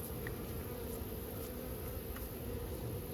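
Bees buzzing steadily around a hive being removed from brickwork, a continuous dense drone close by that holds level throughout.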